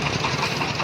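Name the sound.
Pronto motor vehicle engine running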